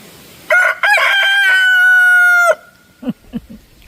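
A rooster crows once, loud and near, a long drawn-out call held for about two seconds, followed by a few short soft clucks from chickens in a garden.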